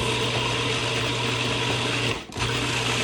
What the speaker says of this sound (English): So then I just take all those ingredients and just pulse them up until they're really finely diced